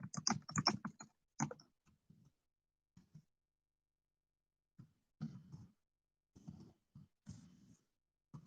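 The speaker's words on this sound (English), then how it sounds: "Let me type this." Short bursts of computer keyboard typing, clustered at the start and again later with pauses between, fairly close and clear with no talking.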